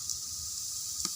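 Fish frying crisp in coconut oil gives a steady, soft sizzle with a brief louder crackle near the end.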